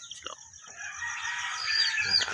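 Chickens clucking and calling close by, a steady stream of short squawks and cackles that grows slightly louder toward the end.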